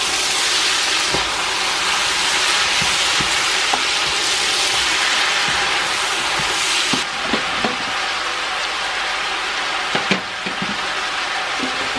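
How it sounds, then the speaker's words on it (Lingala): Vegetables frying in hot oil for pondu, a loud, steady sizzle and hiss with occasional stirring clicks and pops, close and continuous without talk. "Voilà, na otia ba légumes nanga nyonso o na mafuta."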